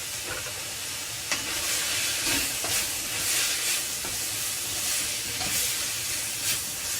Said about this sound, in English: I'm going to cook some prawns. Now I'm going to do those in the noodle pan.